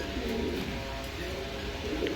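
A pair of pigeons coo softly nearby, a low murmuring call over steady background noise, with no clear talk.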